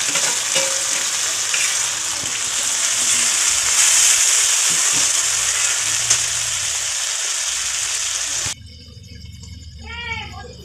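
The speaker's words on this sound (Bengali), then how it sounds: "আবারও হালকা নেড়ে নিয়ে দেওয়া হলো বাটা মশলাটা, যে মশলাটা বেটে নেওয়া হয়েছিল শিলের মধ্যে" Ground spice paste, stone-ground on a grinding slab, fries and is stirred in a pan for a Bengali boal fish curry: a loud, continuous sizzle with scraping stirs that cuts off abruptly near the end, followed by quieter background sounds.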